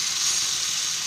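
Bombay duck (bombil) fish fries in a pan with a steady, close, hissing sizzle that stays even throughout, with no voices over it.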